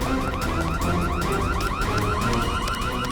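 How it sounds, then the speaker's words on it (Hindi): An alarm sounds from an elevator stuck between floors, a loud, continuous warbling tone that repeats in quick, even cycles without pause, with no voices over it. "ये अलार्म कैसा? लगता है लिफ्ट अटक गई है"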